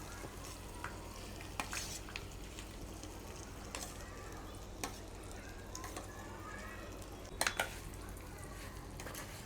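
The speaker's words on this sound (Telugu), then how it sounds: "తాలింపు అంతా కలిసేలా బాగా కలిపేద్దామండి." Mango coconut chutney is stirred into a hot tempering in a pan: faint scraping and a light background sizzle, broken by scattered soft clinks of a spoon against metal.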